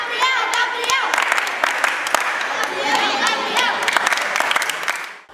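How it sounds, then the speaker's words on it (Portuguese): Children's crowd cheering and clapping for judo athletes at municipal summer games in a sports gymnasium in Tracuateua, a dense, lively din of shouts and applause that holds steady and fades near the end. "A torcida das crianças é de incentivo aos judocas que se dedicaram aos Jogos de Verão"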